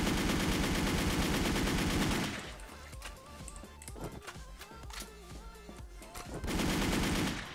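Bursts of automatic gunfire from an online shooter video game blaze loud and continuous at the start and again at the end, with a quieter stretch of game sounds and scattered shots in between.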